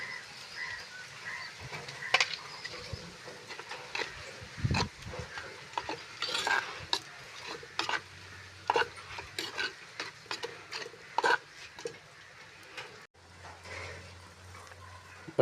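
Chili, garlic, fennel and mustard seeds frying in a pan for an eggplant coconut-milk curry, with scattered sizzling pops, spoon scrapes and stirring clatter at a moderate, uneven level, plus a faint background hum.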